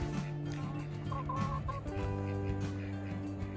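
Several turkeys and chickens cluck and gobble in short bursts, fairly quiet against steady low background hum.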